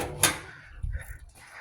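Front door panel of a Kenmore dryer being fitted into its side grooves, a sharp metallic knock followed by softer thuds and scraping of sheet metal, close and fairly quiet.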